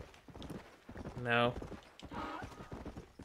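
Hooves clip-clop along steadily beside the players in Red Dead Redemption as a donkey walks, with a whinny in the middle and people talking over the steps.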